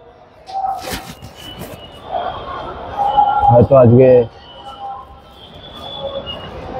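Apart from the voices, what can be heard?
crowded metro station ambience with trains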